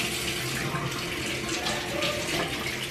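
Tap water running steadily into a sink, a loud close continuous rushing splash with a faint voice briefly underneath.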